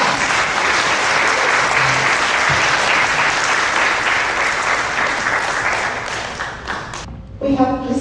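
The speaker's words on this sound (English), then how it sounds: "So let's give a clap for that." Dense, loud audience applause at a UNICEF event, steady for about seven seconds before stopping abruptly, with a voice starting up right after.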